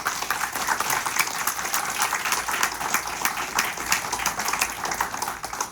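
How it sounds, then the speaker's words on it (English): Steady, dense applause from an audience at a scholarship fund ceremony, sustained at an even level throughout with no voices over it. "Please give a round of applause again for these exceptional individuals."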